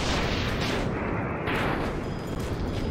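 Ship weapons firing in the Landships airship battle game: a dense, continuous barrage of booming artillery-like blasts and bursts, loud and close, with no talk.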